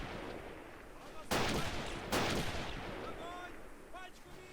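In the video game Battle of Empires: Russia, two sharp, heavy gunshots crack out about a second apart over a background ambience, followed by faint chirping game sounds.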